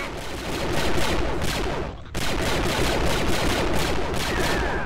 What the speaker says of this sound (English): Those gun sounds are loud!